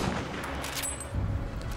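Gunfire in the video game Battlefield 1, a dense, distant rumble of shots and battle noise blending together at moderate level with no clear separate reports.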